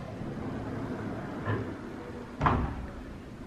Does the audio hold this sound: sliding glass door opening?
yes